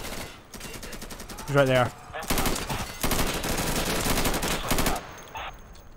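Rapid automatic gunfire in the tactical shooter Insurgency, with dense bursts of shots and a brief gap in the middle, while someone speaks briefly over the firing.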